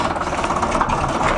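A 1953 International Harvester TD20 bulldozer's non-turbo 750 cubic inch straight-six diesel idles at low revs, a close, steady rumbling chug with a rough mechanical knock, heard alone.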